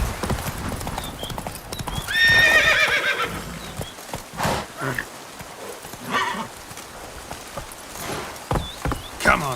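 Roach, the horse in The Witcher 3, gallops with quick rhythmic hoofbeats and gives a loud whinny partway through, with game sounds in the background and someone speaking intermittently.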